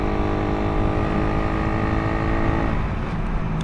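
A Suzuki Raider 150 carbureted motorcycle fitted with a 45-tooth rear sprocket accelerates hard, its engine roaring loud and close in a steady, continuous drone that climbs slightly in pitch.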